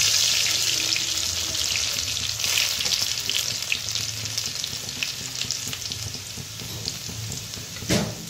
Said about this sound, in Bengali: তেলটা গরম হয়ে গেছে, রসুনগুলো ছেড়ে দেব।